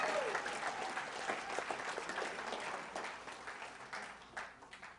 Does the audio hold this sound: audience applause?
yes